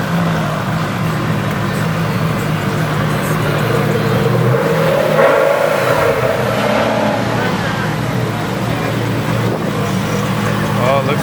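A Toyota Supra at a hypercar car show revs and accelerates, a loud sustained engine roar that swells near the middle, with crowd chatter and voices throughout.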